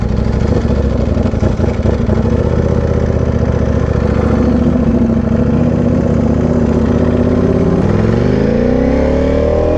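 A Ducati Panigale V4R motorcycle engine idling close by, a loud steady mechanical drone that rises and wavers in pitch near the end.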